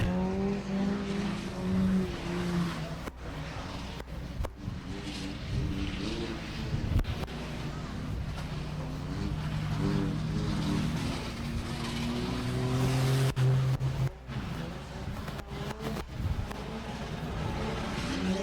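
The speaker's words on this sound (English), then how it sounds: "We got the minivan dirt tracking it." A minivan racing on a dirt track at a skid race in Auburndale: continuous engine roar with revving and tire noise, steady and fairly loud, and no clear speech over it.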